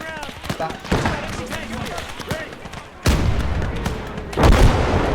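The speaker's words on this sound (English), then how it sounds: "We need that mortar to open fire." A mortar fires in a D-Day to the Rhine war video game, with heavy booms landing partway through and again near the end over a voice speaking.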